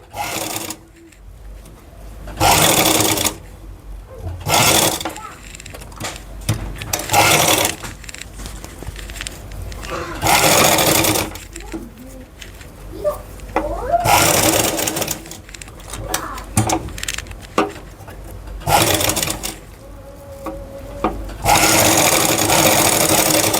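A sewing machine stitches around a fabric corner in repeated loud bursts of rapid whirring, stopping and restarting several times with short pauses between runs, while a voice talks in the gaps.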